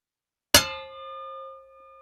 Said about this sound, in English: This is the sound of me hitting a shovel with a pipe.